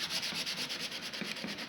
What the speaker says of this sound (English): the best way to do that is with these 60 grit sanding discs